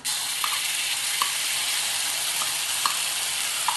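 Onion, ginger and garlic paste sautéing in a pan for green chicken gives a steady, close hiss of sizzling, with a few soft stirring taps spaced through it and no talking.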